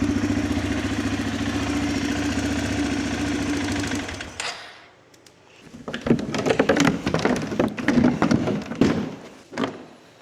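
A 2006 Arctic Cat 400 ATV engine idles steadily with a low, throbbing hum, cuts out briefly, then restarts into rougher, sputtering bursts of revving.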